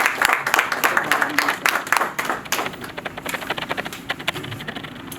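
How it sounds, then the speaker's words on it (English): An audience at the MVNO Nigeria 2025 telecom conference applauds, a dense burst of clapping that loosens into scattered, thinning claps over a few seconds. "a round of applause."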